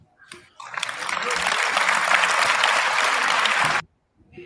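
A congregation claps in a short, dense burst that starts abruptly, holds steady for about three seconds and then cuts off sharply.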